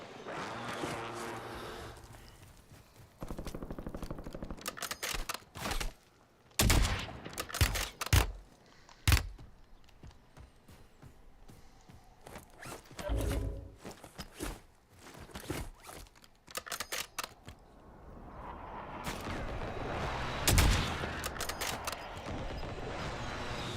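Gunfire in the Call of Duty video game at Verdansk comes as scattered bursts of sharp shots and clattering impacts, some loud and close, others quieter, separated by stretches of lower rustling noise.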